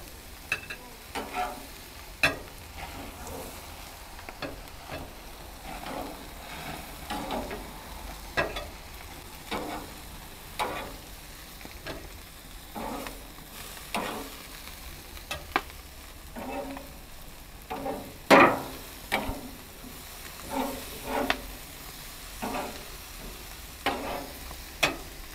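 Beef burgers for deep-fried cola burgers cooking on a grill, giving a steady low sizzle broken by frequent sharp pops and crackles spread through the clip.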